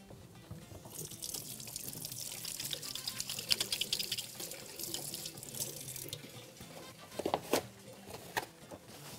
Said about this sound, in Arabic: اغسل بقى ايديا عشان الفراخ.